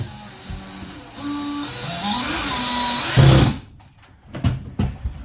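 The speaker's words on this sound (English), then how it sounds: "all we gotta do is drive in 2 screws" A power drill whines and rises in pitch as it drives a screw into drywall in a mobile home under restoration, then stops abruptly, followed by a few knocks and handling noises.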